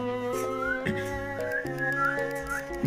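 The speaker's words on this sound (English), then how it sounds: "Why are you guys whistling?" People whistle a short, wavering tune for a few seconds, with clear sustained notes and no talking.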